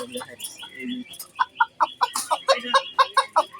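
A native village chicken clucks in a steady run of short, close, loud clucks, with faint voices and softer fowl calls at the start.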